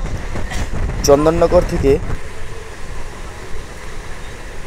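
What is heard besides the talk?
galloping local train running toward Bandel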